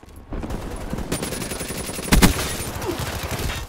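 Rapid bursts of automatic gunfire in the Black Ops 3 video game crackle loudly and close, with a sharp heavy hit near the middle and game sounds continuing under it.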